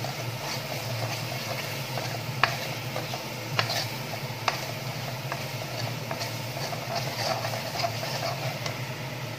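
Cumin powder being stirred into a pan of kabuli chickpea ghugni: a steady sizzle runs throughout, broken by a few sharp spoon clicks against the pan, close and alone.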